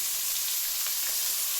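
Onion and curry leaves sizzle steadily in hot oil in a pan while a fish curry is being made, a constant close frying hiss with no talk.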